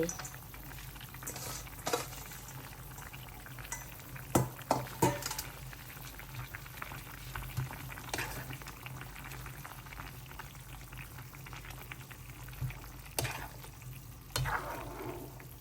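A pot of Thai eggplant and pork red curry with basil leaves simmering and being stirred, giving a soft bubbling bed broken by occasional scrapes and clinks of the spoon, with no talk.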